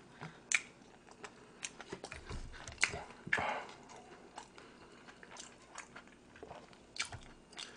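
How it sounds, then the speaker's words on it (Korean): Close, quiet chewing with soft crunches and bites at an irregular pace, no talking. "씹는 소리를 한번 들어보려고"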